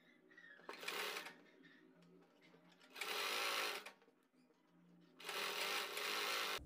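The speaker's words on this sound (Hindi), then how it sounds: "कपड़े को फिर से फोल्ड करेंगे और फिर सिलाई लगाएंगे" A sewing machine stitches folded fabric over cord for a neckline design in three short, loud whirring bursts separated by quieter pauses with faint handling sounds.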